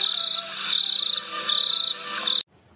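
Mobile phone ringtone imitating a cricket, shrill chirping trills in repeated bursts, fairly close and alone, cutting off abruptly near the end.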